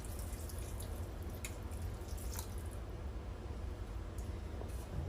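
Water poured into a pot of field peas and chicken broth on the stove, a soft steady rushing and splashing, quiet and close, with no voices.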